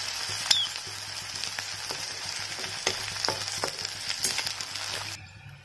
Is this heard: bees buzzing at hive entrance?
no